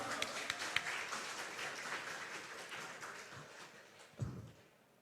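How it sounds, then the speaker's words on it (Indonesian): A ceremony audience gives sustained applause, a broad wash of many people clapping with a few sharper claps near the start, fading toward the end with a brief thump. "Ya, berikan tepuk tangan yang meriah Sobat Ars."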